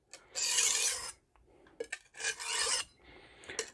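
A chef's knife in Magnacut steel scrapes across a coarse Norton Crystolon stone in about three separate rasping strokes, each a close, gritty swipe of about a second with brief quiet gaps, heard alone.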